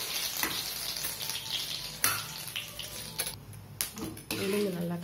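Mustard seeds and urad dal frying in hot oil, a steady close sizzle and crackle with occasional spoon scrapes against the pan, while someone speaks over it.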